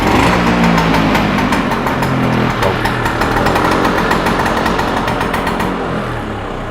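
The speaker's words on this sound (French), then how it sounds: "On peut entendre le moteur aussi qui fonctionne à merveille là-dessus." A 1962 Vespa 150 VBB scooter engine runs steadily at close range, a rough, buzzy idle with fast mechanical pulsing and a rattly edge throughout.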